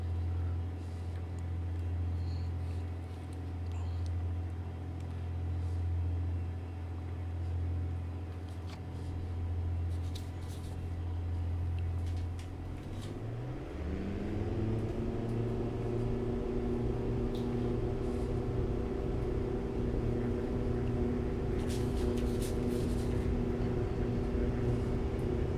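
A small airplane's engine idles steadily, then throttles up for the takeoff roll partway through, rising into a louder, sustained drone with a higher pitch, heard from inside the cockpit with no talk.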